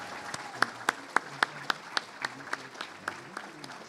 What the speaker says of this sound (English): Please join me in another round of applause for the dedication and long-term commitment of these board members.